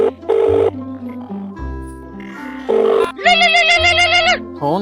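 Phone ringtone during a call, a loud melodic electronic ringing tune playing in bursts of tones close by, with no one talking over it.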